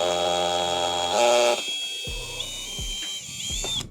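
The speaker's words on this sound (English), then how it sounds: "And now we're ready to drill it up." A power drill whines at high speed drilling holes, then cuts off and restarts in short bursts with clunks of handling between.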